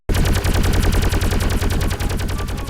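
Rapid railgun cannon gunfire from a sci-fi game, a loud unbroken burst of fast, evenly spaced shots hammering on for under three seconds.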